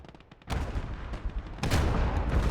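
SIG infantry gun firing in the WWII strategy game Gates of Hell: Ostfront, with two sharp booming blasts about a second apart, each followed by rumbling tail, over low battlefield noise.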